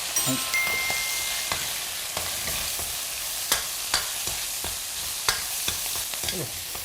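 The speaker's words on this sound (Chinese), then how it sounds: "放入这个锅中爆香之后，放入羊腩肉" Bay leaves, cinnamon bark, star anise and scallion frying hard in a wok for a Sichuan dish, a loud steady sizzle with scattered stirring scrapes and clinks.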